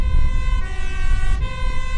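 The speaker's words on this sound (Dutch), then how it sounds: "een brandweerauto." A fire engine siren wails steadily and loudly nearby with a rumbling engine underneath, passing through a seaside area on Cape Verde with no talking.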